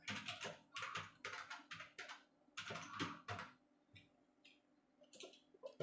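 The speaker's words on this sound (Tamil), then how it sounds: "கூகுளுக்கு போயிட்டு கலர்ஃபுல் பேக்ரவுண்ட் அப்படின்னு டைப் பண்ணுறேன்." Bursts of typing on a computer keyboard, quick irregular key clicks grouped in several runs with short pauses, close and fairly quiet, no voices.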